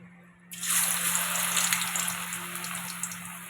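Water pours steadily into a cooking pan while okra is being prepared for crisp frying, a continuous close gushing splash that starts abruptly and runs for a few seconds with no talk.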